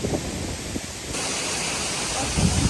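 Heavy water flow at Fall Creek Falls State Park after three days of rain, a loud, unbroken broadband roar of the falls holding steady throughout, with no voices.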